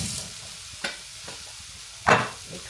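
Butter going into a hot frying pan for a mushroom and paneer dish gives a few short sizzling bursts, with the loudest, longest hiss near the end, mixed with light stirring.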